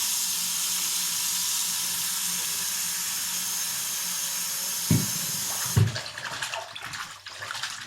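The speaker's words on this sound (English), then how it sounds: "I'm going to be doing about a capful of shampoo in the sink with cold water." Cold water runs steadily into a bathroom sink for washing a synthetic wig, a broad even hiss for about five seconds, then a couple of splashy knocks as the flow is disturbed.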